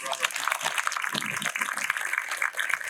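An audience at an outdoor park ribbon-cutting and donor wall reveal applauds, a dense, continuous wash of clapping with voices mixed in throughout.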